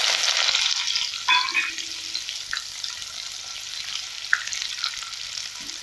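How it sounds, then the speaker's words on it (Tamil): Skin-on crushed garlic deep-frying in oil for a spicy mixture snack, a bright, dense crackling sizzle that is busiest at the start and then settles into a steadier fry with a few scattered pops. "பூண்டு இது எண்ணெயில போட்டு பொரிச்சு எடுத்துக்கலாம்."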